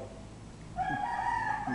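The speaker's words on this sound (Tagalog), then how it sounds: "Yeah, may mga manok dyan sa gilid." Rooster crowing from beside a house, a bright sustained call rising in partway through and holding to the end over a faint background hum.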